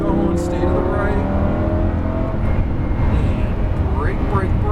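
A Lamborghini Huracan LP610-4 accelerates hard on a race track, its engine note roaring loud and close with rising pitch sweeps, under an instructor's steady spoken coaching.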